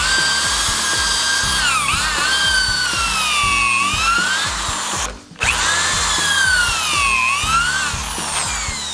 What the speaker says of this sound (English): So I'm going to clamp the jig into place and actually drill in both of these holes.